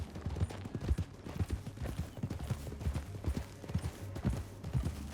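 Steady clip-clop of horse hooves at a brisk trotting rhythm in Red Dead Redemption 2, fairly close, over a low continuous rumble with no talking.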